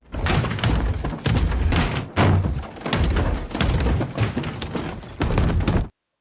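Someone outside bangs on a door in a film scene, a series of heavy, forceful thuds in uneven bursts, loud and close, ending abruptly in silence.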